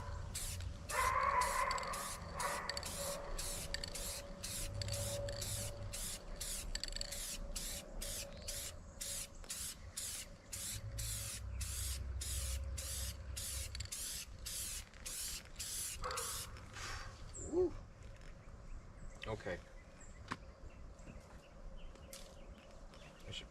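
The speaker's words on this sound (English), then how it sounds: "we're just spray painting this thing today" Short, regular hissing bursts of spray paint repeat in quick succession for a long stretch, then stop, leaving faint outdoor sounds and a distant bird.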